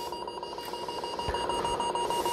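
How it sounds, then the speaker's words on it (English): Timeout timer alarm on a President Walker II CB radio, a steady, evenly pulsing electronic beep repeating throughout, fairly quiet and heard alone with no talk. "So there's the timeout timer again."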